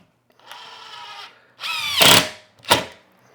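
Power drill fitted with a sheetrock bit driving into sheetrock, heard as a short whir followed by two louder, harsher bursts as the bit bites in, close and alone.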